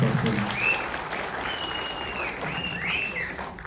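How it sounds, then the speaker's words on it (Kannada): A movie trailer launch audience applauds in a loud burst of clapping that tapers slightly, with a few cheers and whistles on top. "ಇಂಥವ್ರಿಗೆ ಇನ್ನೊಂದು ಸತಿ ಜೋರಾಗಿ ಚಪ್ಪಾಳೆ ಹೊಡೆದ್ರೆ ತುಂಬ ಖುಷಿ ಪಡ್ತೀನಿ."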